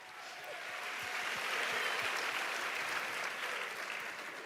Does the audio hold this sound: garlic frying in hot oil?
no